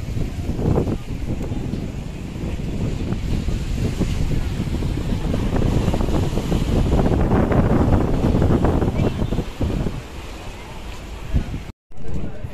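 Wind gusting across a bridge at Galle Face in Colombo on a Saturday night, a steady loud rushing roar with microphone buffeting throughout, cutting out briefly near the end.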